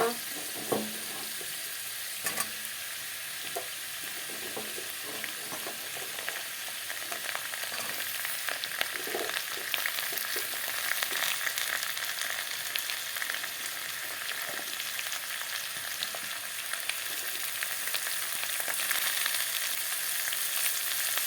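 Potatoes and capsicum fry in a pan, a soft, continuous sizzle that runs the whole time with occasional light clicks of stirring.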